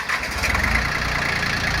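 An old Japanese TX 1401 tractor with a three-cylinder direct-injection engine running just after starting: a loud, steady, throbbing diesel chug close by, with no talk.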